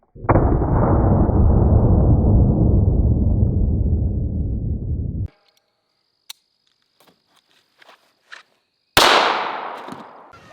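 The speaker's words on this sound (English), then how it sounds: "I'm gonna jab the blade into them and then pull the trigger" A knife gun fires with its blade jabbed into a pineapple: a loud sustained blast-like burst for several seconds, then scattered small clicks and knocks, and a second sharp burst near the end.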